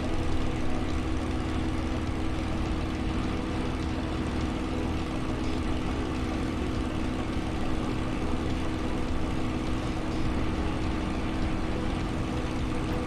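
Steady drone of a simulated aircraft engine in Microsoft Flight Simulator, a constant loud hum with an even propeller buzz that holds unchanged throughout with no speech.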